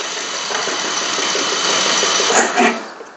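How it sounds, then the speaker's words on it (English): Briggs & Stratton 18.5 HP engine on a Craftsman lawn tractor cranks over on the starter without firing, giving a close, steady, rhythmic churning that runs for about three seconds before tapering off. "I'm just going to go ahead and crank the engine over."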